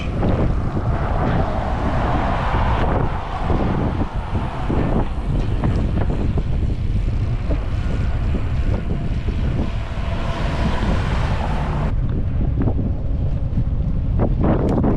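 Strong wind roars and buffets the microphone continuously while cycling on a rural Wisconsin road, a loud, gusty rumble that persists throughout with no voices.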